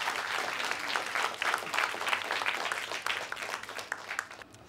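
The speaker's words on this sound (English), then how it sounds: "Give them a round of applause, please." A quiz show audience, at a spelling bee contest, breaks into sustained applause: dense, even clapping from a crowd that holds steady and then tapers slightly at the end.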